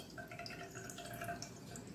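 Water is poured off soaked rice, with a close, steady trickle and splashing running through the short clip.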